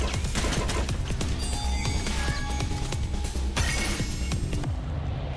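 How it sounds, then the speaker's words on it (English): Rapid gunfire from a burst fire rifle in the video game Riftstorm, loud, dense repeated shots with clattering and crashing effects layered over game music tones, continuous for the whole stretch. "it's a burst fire rifle"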